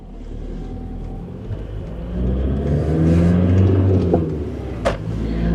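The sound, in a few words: Volkswagen Caddy SDi 2-litre non-turbo diesel van engine revving uphill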